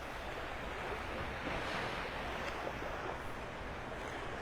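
Ocean surf washing onto Delnor-Wiggins beach in North Naples, Florida: a steady, broad roar of breaking waves with some wind buffeting the microphone, continuous and fairly loud throughout with no talking.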